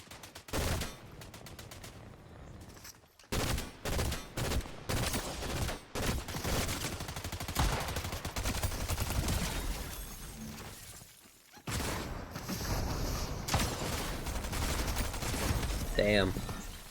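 Shotguns blast in Fortnite in a series of loud, abrupt booms with debris and shattering, some shots clustered in quick bursts, close and harsh, mixed with game noise and players talking over the action.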